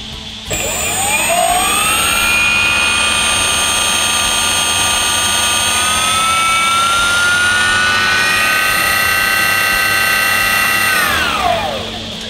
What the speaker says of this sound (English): The two motors make such a difference in the delivery of the power and laying it down on the ground.